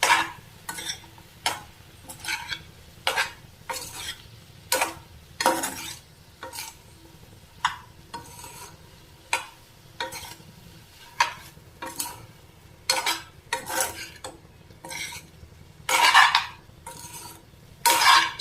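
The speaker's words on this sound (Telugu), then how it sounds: "ఇప్పుడు మనం కలుపుకుందాం" Raw prawns are mixed with oil in a bowl, giving a series of irregular wet clinks and scraping knocks of a utensil against the bowl, fairly close and alone.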